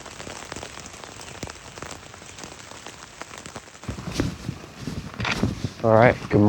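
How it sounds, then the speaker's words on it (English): Morning rain falls steadily as a soft, continuous hiss, with a person talking over it in the second half and some louder nearby sounds near the end. "It's raining here this morning, covered in clouds."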